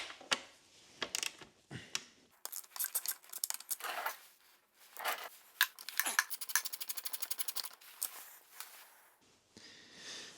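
Ratchet wrench clicks in quick bursts as 10mm bolts come out of the radiator guard on a Royal Enfield Himalayan 450 motorcycle, with a long run of rapid ratcheting near the middle and scattered metallic taps around it.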